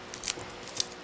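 Scissors snip thread ends off a small piece of fabric while a feather is being made, giving two crisp, close cuts, the second near the end, with soft handling noise between.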